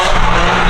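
A car drifting at night at a drift event, with a loud, continuous, close roar of engine and squealing tires filling the whole brief moment.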